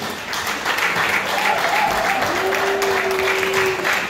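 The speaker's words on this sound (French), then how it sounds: "Et Dati va arriver également sous nos applaudissements, nourris bien évidemment" An audience applauds steadily to welcome a guest onto the stage at an evening event, a dense and even wash of clapping with faint voices and a brief tone mixed underneath.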